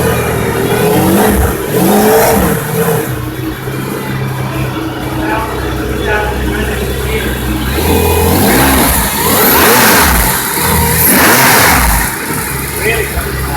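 A Mercedes-Benz AMG CLK GTR Roadster's exposed V12 engine idles after a cold start, a loud, steady, close rumble with slight swells in revs and voices talking nearby.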